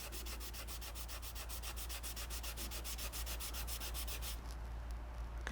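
Grime is rubbed off a metal part of a Boxford AUD engineer's lathe during restoration, making a steady, rhythmic scrubbing stroke repeated rapidly over a constant low hum.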